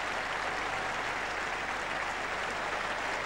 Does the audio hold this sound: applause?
yes